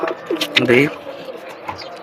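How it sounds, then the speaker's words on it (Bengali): A female jiragola racing pigeon gives a single close, throaty coo with a rolling, warbled tone, followed by quieter rustling. "এটা হচ্ছে জিরাগলা কবুতর"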